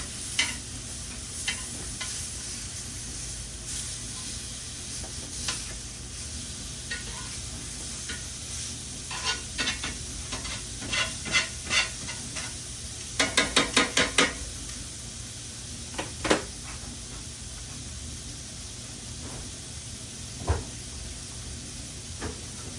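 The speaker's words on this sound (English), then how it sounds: "let's flip these oxtails over. Want to get a good sear on them." Oxtails searing in a pan for a holiday cookout, a steady background sizzle broken by scattered clinks and scrapes as pieces are turned, including a quick rattling burst midway, heard alone without talk.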